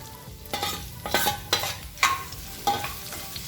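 Ginger-garlic paste and chopped onions sautéing in a pan, a soft sizzle punctuated by about six spatula scrapes and stirs at roughly half-second intervals, close but moderate in level.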